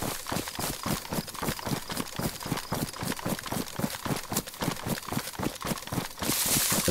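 Rapid, even footsteps of a character running in the video game DayZ, a loud steady thudding rhythm of about three steps per second over a constant noisy background.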